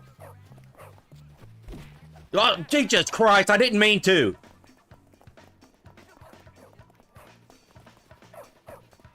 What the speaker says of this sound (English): Why is a dog chasing me?